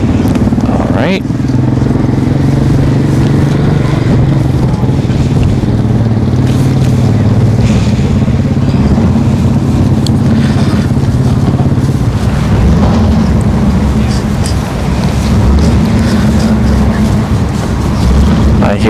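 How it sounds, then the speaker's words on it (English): Drag racing cars fire up and idle at Orlando Speed World during the Cadillac Attack 2022 event, a continuous loud, rumbling engine drone sustained with small surges, while a person talks over it. "I hear some cars fired up."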